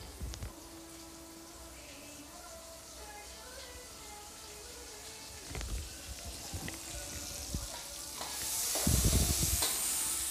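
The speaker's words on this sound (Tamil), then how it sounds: "பூண்டியை சேர்த்து நல்லா தாளிச்சுக்கலாம்" Three cloves of crushed garlic frying in hot oil give a soft, quiet sizzle, with louder hissing bursts as stirring stirs up the pan near the middle and end.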